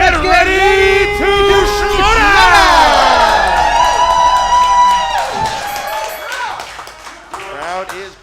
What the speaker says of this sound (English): Crowd is great.